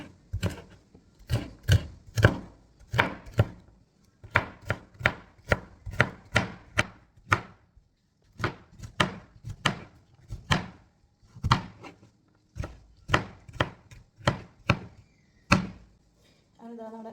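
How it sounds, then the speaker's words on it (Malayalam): Ridge gourd, peeled and washed, is chopped with a knife on a board: a long run of crisp, close knocks in quick bursts, with short pauses between groups. "പീച്ചിങ്ങ മൊത്തം നമ്മൾ അരിഞ്ഞെടുത്തോളൂ"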